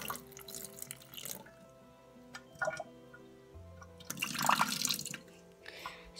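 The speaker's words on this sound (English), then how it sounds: "As you can see, I'm pouring out coffee." Coffee is poured out in a few splashy, trickling bursts, close and fairly quiet, with drips between the pours and no talk.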